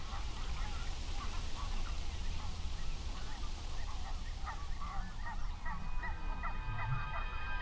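Greylag geese honk in a Dutch marsh at Oostvaardersplassen, a dense chorus of overlapping calls at moderate distance, continuous and fairly faint over a steady rushing ambient background.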